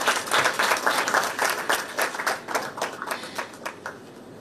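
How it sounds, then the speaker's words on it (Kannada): An audience at a film trailer launch event claps in a lively burst of applause, many hands close together, gradually thinning and fading over a few seconds. "ಚಪ್ಪಾಳೆ ಸದ್ದು ಕೇಳಿಸ್ತೀರಾ?"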